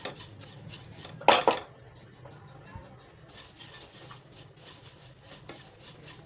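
A spoon clanks loudly against a pan once, then quieter stirring and scraping follow over a faint sizzle as food is sautéed on medium flame for a Janmashtami offering.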